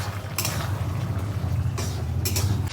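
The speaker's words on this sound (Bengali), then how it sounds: "এই অবস্থায় আমি এই ভাজা ডিমগুলোকে দিয়ে দিচ্ছি তা এটাকে নাড়াচাড়া করে একদম মাখো মাখো করে নেব" A utensil scrapes and stirs fried eggs through thick curry gravy in a pan, giving soft repeated clinks and scrapes close by over a low background hum, with no one talking.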